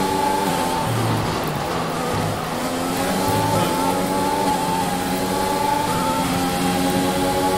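A Formula 1 car engine screams at high revs in F1 2021 at the Chinese Grand Prix, a loud, sustained whine with shifting pitch as the car powers down the straight, with no voices.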